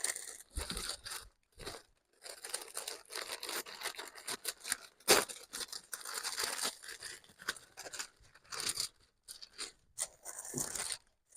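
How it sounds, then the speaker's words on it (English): Tissue paper and packaging being pulled from a designer-clothing parcel, a close, steady run of crinkling, rustling and tearing with short pauses between handfuls. "So I had to move some of the packaging on the floor so it doesn't make noise"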